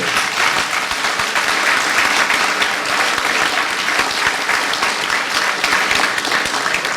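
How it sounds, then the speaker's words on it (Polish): Sustained audience applause at a political gathering in Katowice, a dense, even wash of clapping that holds steady and loud throughout with no break. "Ja rozumiem, że te oklaski nie są do Jarosława Kaczyńskiego"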